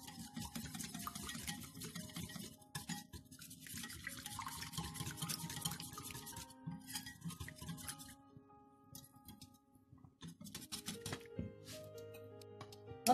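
Tomato soup stirred in a pot with a spoon, producing a steady run of soft scraping and clinking against the pot for several seconds, with no talking.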